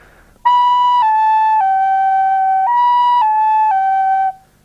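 A recorder plays a slurred run of steady notes without tonguing, stepping down, jumping back up and stepping down again, with smooth joins and no separate attacks.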